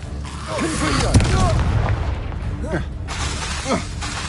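A Confringo blasting curse in Hogwarts Legacy gameplay: several sharp booming impacts burst through a busy battle mix of whooshes and effects, with a spell voice shouted over the fighting.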